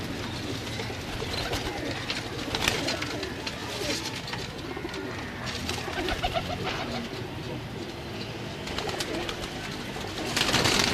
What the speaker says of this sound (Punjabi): ਇਹ ਜਿਹੜੇ ਕਬੂਤਰ ਤੁਸੀਂ ਦੇਖੇ ਨੇ